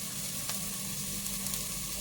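Garam masala sizzles steadily in hot oil in a pan while an Indian-style white sauce pasta is cooked, a continuous close frying hiss with a faint tap or two and no talk.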